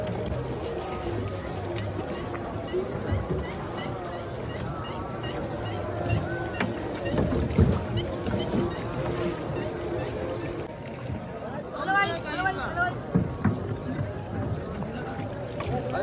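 Boats moving on the river at the Maha Kumbh Mela 2025, a continuous low engine drone and water wash beneath steady crowd chatter and nearby voices, with occasional wind buffeting the microphone.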